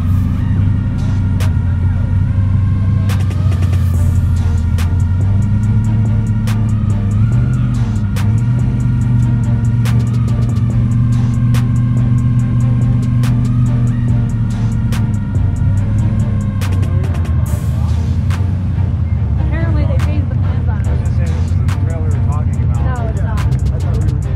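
A rock crawler side-by-side with leading and trailing arm suspension drives a desert trail near Moab, its engine a steady loud drone with shifting revs throughout, under continuous talk.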